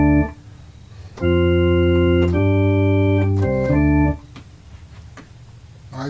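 Electronic organ keyboard playing clean with no distortion pedal: a couple of sustained smooth chords held for about three seconds, rising to a clear loud tone after a quieter start, then fading out.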